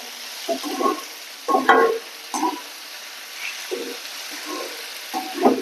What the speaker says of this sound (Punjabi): ਹੁਣ ਆਪਾਂ ਟਮਾਟਰ ਨੂੰ ਭੁੰਨ ਗਏ ਨਾ ਥੋੜਾ ਜਿਹਾ ਟਮਾਟਰ ਨਰਮ ਹੋ ਜਾਂਦਾ ਵਾ